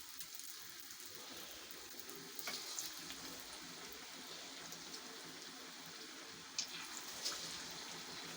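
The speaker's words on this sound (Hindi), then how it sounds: "अब हम इनको फ्राई कर लेते हैं। हमारा घी गर्म हो चुका है। अब इसमें हम एक एक करके रखते जाएंगे इनको।" Mini potato spring rolls fry in hot ghee with a faint, even bubbling sizzle and a few soft clicks as they are placed in the pan.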